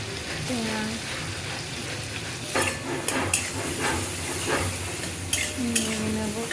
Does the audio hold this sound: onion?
yes